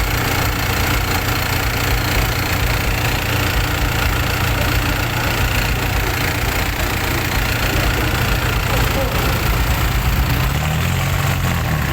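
A steady engine idles throughout on a customized Thai farm-engine vehicle (e-taen), a constant low rumble with a slight knocking texture, close and continuous with no voices.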